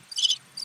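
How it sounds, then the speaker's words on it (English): Crickets chirp in two short bursts of high, buzzing trills, fairly close and clear with nothing else audible. "Play crickets."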